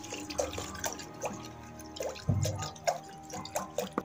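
A litre of milk is poured into a pot for rasmalai, making soft, irregular splashes and dripping trickles with a few heavier plops, fairly quiet and close.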